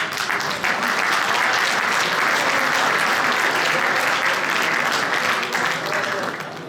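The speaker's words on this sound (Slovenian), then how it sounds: "gospod Tomo Kras iz Trgograda, lahko ga kar pospremimo z aplavzom." Sustained audience applause at a round-table panel of an asphalt, bitumen and road-surface colloquium, steady dense clapping filling the room for several seconds before tapering off at the end.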